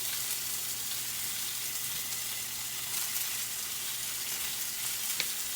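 Tomatoes for homemade salsa sizzle and fry in a pan, a dense, steady crackling hiss with occasional small pops and no talking.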